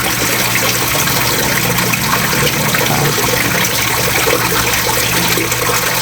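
Water scooped with a small plastic dipper from a little tilapia pond with a homemade filter; a steady, close, continuous watery rush and trickle runs throughout with no talking.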